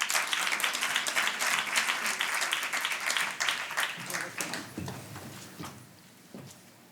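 Audience at an awards ceremony claps loudly at first, the applause thinning gradually into a few scattered claps as it fades toward the end.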